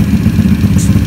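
A Honda Dax style 140cc monkey bike engine fitted with a Z40 camshaft runs close by, a loud, steady low chugging idle with light mechanical clatter.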